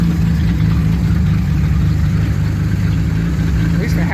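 The engine of a 1976 Mustang II Cobra, freshly revived after carburetor work, runs at a loud, rough, steady idle with a low rumbling drone close by, with a voice faintly under it.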